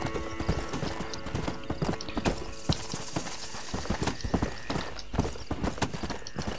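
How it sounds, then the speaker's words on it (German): Horse hooves clip-clop steadily while riding in the Red Dead Redemption video game, a brisk rhythmic trot of many close, distinct hoofbeats with an occasional faint whinny. "Da reiten wir jetzt mal zurück."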